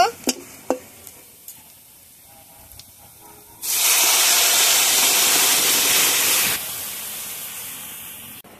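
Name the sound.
pumpkin lentil dal poured into pan of fried onion and garlic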